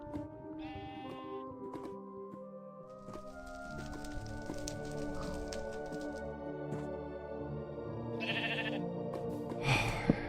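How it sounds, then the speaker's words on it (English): Sheep in the video game Minecraft bleat in a few short calls over steady game music, fairly clear and close, with no talk. "Goddamn sheep."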